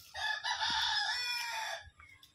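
A rooster crows once, loud and close, its long, strained call rising and then trailing off into quiet.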